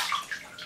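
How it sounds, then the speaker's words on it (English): Water splashes and trickles at a bathroom sink as it is rubbed onto a face, soft brief sloshing close by. "rub some water on my face"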